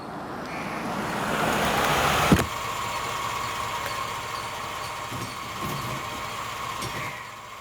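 A vehicle engine rumbles and pulls away, a steady low drone with a sharp knock near the middle, then a fainter continuing hum.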